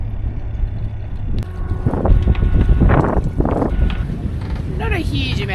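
Moderate wind of about 8 to 9 knots with gusts while sailing a boat off Malta, a steady close rush buffeting the microphone with water wash beneath, under someone talking.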